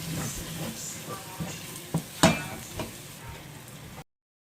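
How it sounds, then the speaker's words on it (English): Egusi melon seeds frying in a pot make a low, continuous sizzle, cut by a few sharp scraping knocks as a wooden turning stick stirs them, quiet and close, with no talking. "So I have been frying this melon seed, which is the egusi."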